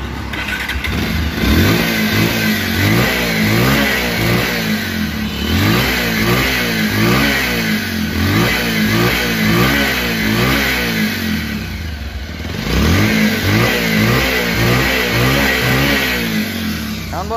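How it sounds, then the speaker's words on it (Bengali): A second-hand Bajaj Pulsar 150cc motorcycle with about 11,775 km on it is revved again and again, its engine rising and falling in repeated surges, loud and close, over a steady idle. "এখন দেখো বাইকটির সাউন্ড এবং পারফরমেন্স।"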